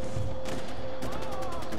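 Gunfire in the video game Far Cry 4 rattles in several dense bursts over a droning background tone and game music, loud and close.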